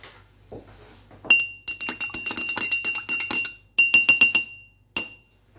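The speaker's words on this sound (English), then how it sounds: "Well, if we give it a little stir," A utensil stirs candle wax in water inside a glass, producing rapid bright clinks and taps against the glass in two bursts, then a single final tap, close and clear with no talk.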